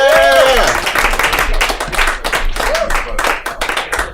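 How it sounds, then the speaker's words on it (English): Comedy club crowd clapping and cheering for a stand-up comedian finishing his set; loud, dense applause with a host's voice shouting over it near the start and again mid-way. "Steven Springer, everybody, give him a round of applause"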